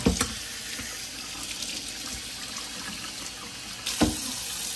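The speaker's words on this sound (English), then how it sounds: "as that water drains out" Water drains out of a GE Profile Opal 2.0 nugget ice maker during cleaning with bleach, making a steady, close hiss and trickle, with a couple of sharper splashes or knocks.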